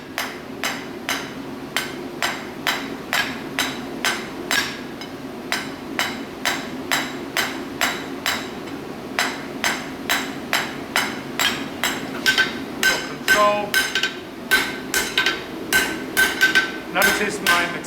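A steady run of sharp, ringing hammer blows on hot metal being upset at the forge, dozens of evenly paced strikes over a low background rumble, close and clear.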